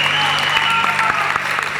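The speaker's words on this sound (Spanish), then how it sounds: "Aplauso para mi Nina." Loud, dense applause from an audience fills the moment, with a steady hum underneath and scattered louder claps.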